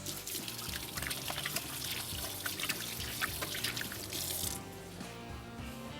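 Water is poured into an oven tray for baking French bread, giving a steady trickling splash for several seconds before it tapers off into a quieter hiss.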